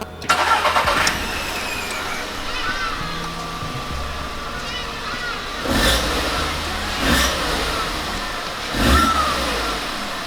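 VW Polo Vivo with a stock intake: an engine starts with a short burst, then idles, with three brief revs spaced a few seconds apart, heard close by and alone.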